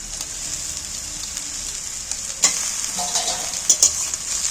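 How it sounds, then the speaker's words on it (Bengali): Fish fries in hot oil with a continuous bright sizzle, up close and fairly loud. A few clinks and scrapes from stirring cut through near the end, and no one speaks. "এবার যে কাঁটা বাঁচা মাছগুলো আমি এই তেলের মধ্যে"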